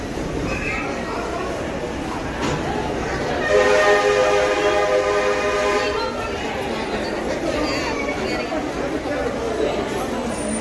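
A train rumbles at a railway station platform amid steady crowd chatter, with a loud multi-tone horn blast rising over the noise for a couple of seconds midway.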